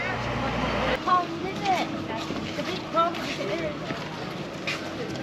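Steady engine drone of the tour boat Summer Queen on the sea at Whitby, with voices chattering nearby over the continuous hum.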